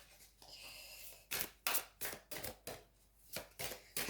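Tarot cards being shuffled, giving a run of crisp, papery bursts that come in an irregular rhythm. They are close and soft, with no voice over them.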